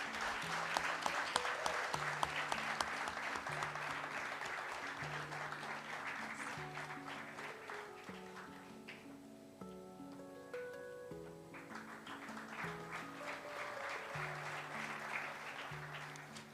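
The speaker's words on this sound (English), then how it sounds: "Give him a round of applause." A crowd at a campus student immersion event applauds an award recipient, steady clapping from many people that lasts the whole stretch over soft background music, moderately distant.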